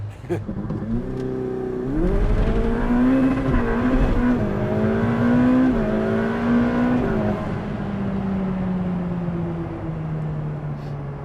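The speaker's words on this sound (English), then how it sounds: "hit the red line and spun the tires really hard" A supercar engine revs hard to the red line with the tires spinning, the pitch climbing and holding loud and close before easing off, while people talk and react in the car.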